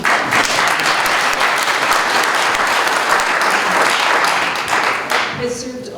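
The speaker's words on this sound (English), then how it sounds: "You can applaud if you'd like." Audience applause for a retired Co-op Refinery worker being introduced at a public meeting on a possible lockout or strike, with sustained, dense clapping throughout that thins slightly near the end.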